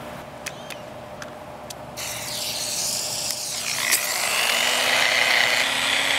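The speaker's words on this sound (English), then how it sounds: "You want to actually let the sander do the work." A power sander whirs steadily, rising in pitch and intensity as it grinds against petrified wood, with a few sharp ticks early on.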